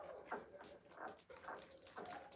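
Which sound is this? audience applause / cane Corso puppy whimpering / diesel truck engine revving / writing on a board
cane Corso puppy whimpering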